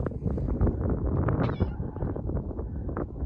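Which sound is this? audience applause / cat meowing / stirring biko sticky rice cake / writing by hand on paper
cat meowing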